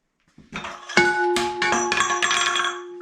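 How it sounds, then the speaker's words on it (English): A metal duck bill tool from a manual tire changer drops and strikes a hard surface, giving a sharp clang followed by a few ringing, rattling bounces that fade over a couple of seconds, loud and close with no talking. "You drop your duck bill."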